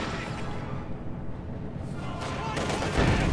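Dense artillery and gunfire rumble and crack in the real-time strategy game Company of Heroes 2, a continuous loud wash of blasts with a heavier burst near the end, under a caster's voice.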